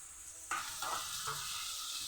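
Bengali fish curry of fish, potato, pointed gourd, onion, ginger and garlic sizzling in a pan as mustard paste goes in, a steady frying hiss with soft stirring scrapes, close and continuous.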